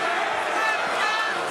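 Arena crowd at AEW Full Gear in the Prudential Center roars and cheers continuously, a dense, loud wall of voices with whistles and chanting during a wrestling match.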